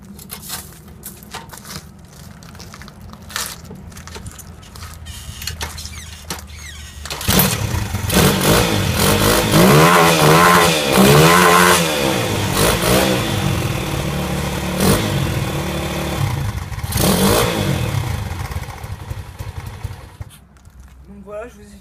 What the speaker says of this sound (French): je vais vous faire écouter le bruit de cette moto avec la chicane